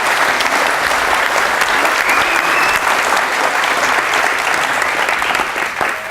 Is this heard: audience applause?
yes